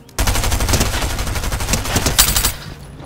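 SMG firing in Fortnite, a loud sustained automatic burst of rapid shots lasting over two seconds before cutting off, no talk.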